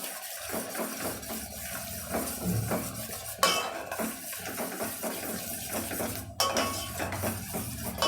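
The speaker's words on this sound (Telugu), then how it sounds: "ఒక స్పూన్ తీసుకొని బాగా ఇలా మిక్స్ చేయండి" A spoon stirs homemade hair oil in a metal container, giving a steady run of scraping and clinking with a couple of sharper knocks against the sides, close and fairly quiet, with no voices.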